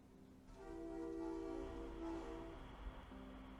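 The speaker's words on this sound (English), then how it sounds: "Train should be here soon." An approaching train in the Charnel House Trilogy game, a steady low rumble swelling in with sustained horn-like harmonic tones, fairly faint and alone with no talk.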